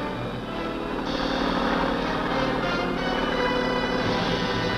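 US Marines military helicopters on maneuvers make a loud, continuous rotor and engine drone, steady with slight swells.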